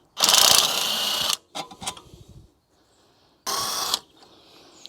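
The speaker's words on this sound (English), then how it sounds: "Got this broken torque wrench, which I can use." A broken torque wrench ratcheting on a car strut of a BMW E60 M5, giving two loud bursts of rapid metallic clicking with a few short softer clicks between them.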